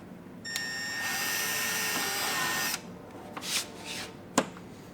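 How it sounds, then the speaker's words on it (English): A power drill with a 1/8 inch bit bores a hole through a Rokblokz fender on a 2018+ Arctic Cat Wildcat XX. It gives a steady high whine for about two seconds, followed by a few scraping and knocking handling noises. "we're going to take our 1/8 inch drill bit, and like we did for the front, we're going to take it, we're going to drill just slightly towards the top side of the hole"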